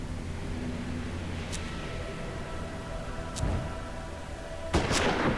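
Gunfire in a western video game: a few sharp, distant shots spaced seconds apart over a low steady rumble of background noise, the last one louder and closer.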